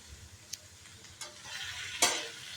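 Leafy greens cooking with tamarind and turmeric in a pot, giving a faint low bubbling and hiss with a few brief clinks and scrapes of stirring, the sharpest scrape near the end.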